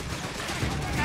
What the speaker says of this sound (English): That bloody machine gun needs to shut off!